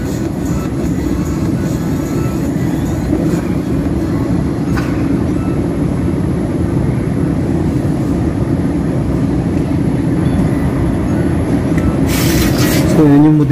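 A Fuji Electric 5-ton air-conditioning unit runs after a restart, giving a steady, loud low-frequency hum and drone that continues throughout, with a brief hiss near the end.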